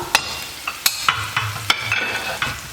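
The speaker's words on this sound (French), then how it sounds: "On mélange ces beaux ingrédients pour faire sortir les saveurs." A spoon stirs spices and ingredients for harira soup in a pot, with several distinct scraping strokes over a soft sizzle of frying, close up and without speech.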